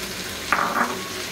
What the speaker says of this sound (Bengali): ভেজে নিতে হবে অল্প একটু।